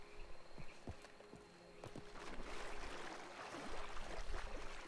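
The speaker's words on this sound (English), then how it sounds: "Frog noise." Croaking frog in Red Dead Redemption 2, a few short croaks near the start, then a dense wash of insect-like chirping and buzzing in the background of a wild outdoor setting.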